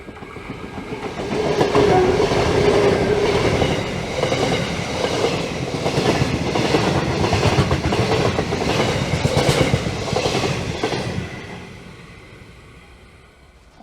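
A train rumbles past close by on concrete sleepers at Gunning station, wheels clacking rhythmically over the rails, then the noise fades away as it moves off.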